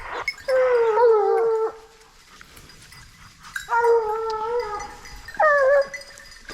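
Hunting dogs on the opening day of hunting season howling in three drawn-out, wavering bouts, the first and second lasting over a second each and the last shorter, with quiet gaps between.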